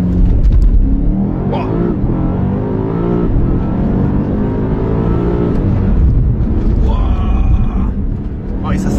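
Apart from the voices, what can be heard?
BMW M5 CS accelerating hard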